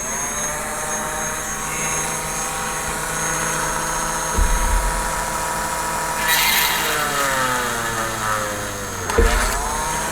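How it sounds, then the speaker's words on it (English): A small power drill at low speed boring a hole with a 2.5mm bit into the bussard collector parts of a Star Trek Enterprise model, giving a steady, close motor whine whose pitch shifts slightly as it bites. "I'm going to go ahead and drill one of the holes."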